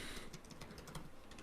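Faint, quick tapping on a laptop keyboard while a chat message is typed, an irregular patter of light key clicks with no voices.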